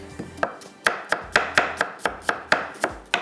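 Onions being thinly sliced with a knife on a board, about a dozen sharp, close chopping taps in a fairly regular rhythm, with no talk.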